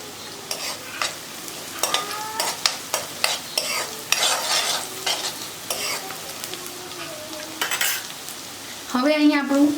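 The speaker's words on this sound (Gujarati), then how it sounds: "અહીંયા મેં એકદમ મસ્ત રીતે આપણે સાંતળી રહ્યા છીએ. ગેસની આંચ સ્લો નથી કરી," Onion sautés over a full flame for raw banana sabji, crackling in the pan with steady sizzling and repeated scrapes and knocks of a spoon stirring against the pot.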